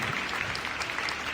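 Audience applause at a Northern Cape youth weekend event as a regional manager is called to the stage, steady dense clapping throughout, fairly loud and close.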